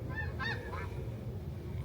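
Honking birds, probably geese, call from directly overhead outdoors: a few short honks in the first second, fairly faint above a steady low rumble.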